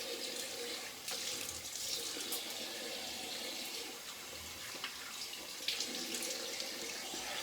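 Tap water runs steadily into a sink while shaving product is rinsed off, a close, continuous splashing hiss with small irregular spatters and no talking.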